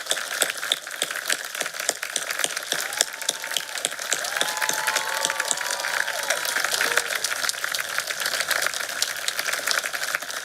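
Audience applause for a retiring teacher at a 2020 Keystone graduation ceremony, steady crowd clapping over ten seconds with a few faint voices beneath.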